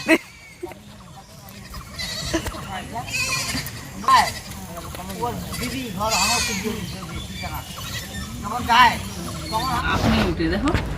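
Goats bleat several times at close range, wavering calls rising over a background of people talking and general outdoor village noise.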